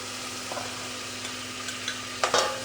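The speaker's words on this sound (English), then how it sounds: "I just want that butter to melt" Seven tablespoons of butter melt in a pot on a stovetop burner, giving a faint, steady hiss with a few light clinks near the end.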